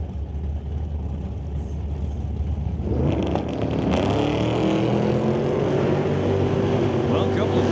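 Drag race cars, one a black Malibu, launching side by side down the track at Mission Raceway Park: a loud engine roar surging in after a quieter stretch and holding strong to the end, with an announcer's voice over the start.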